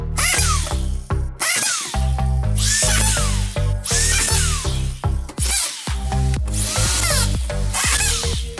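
A screw gun whirs in repeated short bursts, each driving a screw into drywall plasterboard, with brief pauses between them, close and loud.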